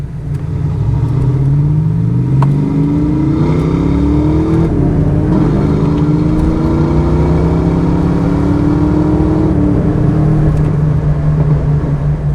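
A 1987 Ford Mustang GT with the 5.0 V8 and five-speed manual pulls hard through the gears on a road drive, loud and steady, its rising engine note climbing and dropping at each shift.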